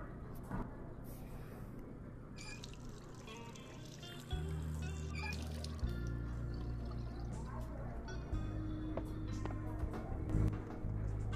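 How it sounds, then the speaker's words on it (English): Water pours and trickles in the Job Simulator VR game's gourmet chef kitchen, a steady liquid stream over low game hum and background noise, with shifting tones as the pour continues. "Oh yeah, water."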